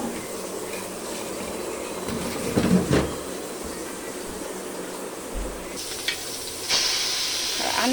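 Fish fries in hot oil with a steady bright sizzle, swelling briefly with a louder hiss and crackle midway and again near the end, close and without talk.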